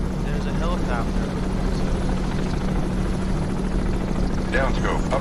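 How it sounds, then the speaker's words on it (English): Helicopter in the submarine game Cold Waters, set in the South China Sea, a loud continuous rotor chop dominating, with radio-style voices talking over it. "There's a helicopter."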